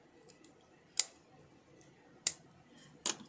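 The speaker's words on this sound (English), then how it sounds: "I'm just going to cut these little pieces here." Scissors snipping small pieces of scrapbooking paper, three sharp crisp cuts spaced apart with faint small ticks between, close and quiet otherwise, no talking.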